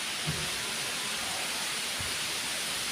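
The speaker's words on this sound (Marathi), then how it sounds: "छान बरसतोय" Rain pours down in a dense, even hiss over the town of Erandol, loud and constant, like a heavy shower falling on surfaces nearby.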